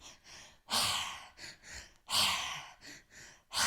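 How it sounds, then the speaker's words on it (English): Forceful mouth-only breaths in the triactive breathwork technique, short double inhales followed by long rushing exhales, repeated in a steady cycle, close to the mic with no talking. "the most active breathwork"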